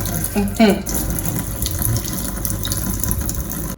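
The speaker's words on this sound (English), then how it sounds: "so I wash my seasoning" Tap water running into a sink while seasoning vegetables such as scallion and garlic are washed for Jamaican-style spicy mackerel, a steady close rushing stream with a brief voice near the start.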